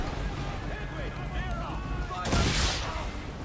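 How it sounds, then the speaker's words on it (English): Ship swivel guns fire during a naval battle in Assassin's Creed 3, one loud booming blast amid wind, water and distant battle noise. "Didn't even mean to shoot the swivel guns there."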